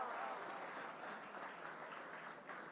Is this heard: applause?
yes